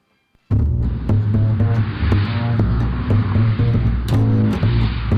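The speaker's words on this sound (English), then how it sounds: "Cars and trucks drive past the front entrance on this very active street" Traffic of cars and trucks rolling past the front entrance of a large downtown building on a busy street, a steady loud engine and tyre rumble that starts abruptly and continues throughout.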